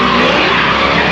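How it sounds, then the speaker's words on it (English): Cars drifting at a drift event, a continuous loud tire squeal and skidding roar with engine noise, steady and unbroken throughout. "as you can hear, there's like a drift event"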